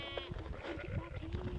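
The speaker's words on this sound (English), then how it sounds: "Look, film over there, there's a black sheep." A black sheep on a nature trail bleats a few times at moderate distance, its calls mixed with people talking nearby and outdoor background noise.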